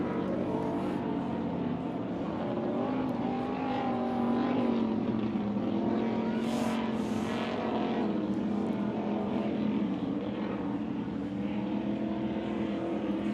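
Super V class racing powerboat engine droning steadily as the lead boat runs the course on a race day in Michigan City, a continuous loud roar with a faint voice underneath.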